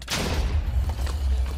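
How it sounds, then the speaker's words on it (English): An explosion goes off in the modded Minecraft game, a loud booming blast with a sharp crack at the start, followed by a rumbling, crackling tail that stays heavy to the end. "Explosion!"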